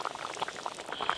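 Spice mix going into a simmering fish curry of rohu with cauliflower in a pan, heard as a close, steady bubbling simmer with soft liquid gurgles and no voices.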